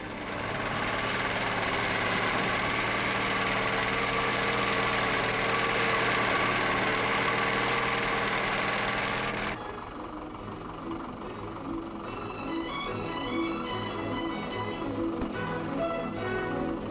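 Land Rover Series 1 diesel engine running steadily at a loud, constant drone, with a slight drop in level partway through and a lighter mechanical rattle continuing to the end.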